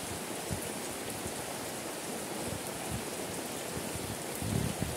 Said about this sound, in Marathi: आणि मस्तपैकी पाऊस पडतोय।